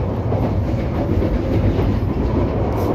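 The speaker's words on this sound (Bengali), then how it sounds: "ট্রেন কিন্তু প্রচণ্ড স্পিডে চলছে" Sonar Bangla Express train running at high speed between Chittagong and Dhaka, heard from inside the car as a loud, steady low rumble with continuous rhythmic wheel clatter.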